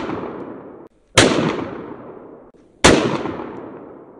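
German P08 Luger pistol firing Federal 115 grain 9mm full metal jacket rounds outdoors, two sharp loud shots about a second and a half apart, each followed by a long decaying echo.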